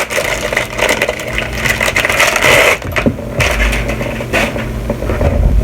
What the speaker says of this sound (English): Sorry about the noise, I'm going to open this up.